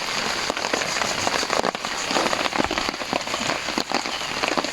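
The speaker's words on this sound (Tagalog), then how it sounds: "It's raining, umuulan." Steady rain pours down on a campsite, a dense hiss of drops drumming on a surface throughout with no break.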